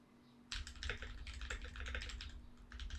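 Rapid typing on a computer keyboard, close and clear, a quick run of irregular key clicks that starts after a brief quiet moment and continues steadily to the end.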